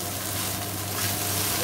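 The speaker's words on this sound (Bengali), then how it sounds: "দেখো আমি দুটো খুন্তি দিয়ে নাড়াচ্ছি, কারণ এক হাতে নাড়ানো যাচ্ছে না" Chowmein frying in a pan, seasoned with salt and ground black pepper and stirred with two spatulas: a steady, close sizzle throughout, with no voices.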